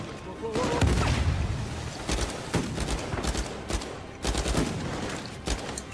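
Shotgun blasts and gunfire in the Uncharted 4 video game, a loud series of sharp shots at irregular intervals with a voice talking intermittently over the action.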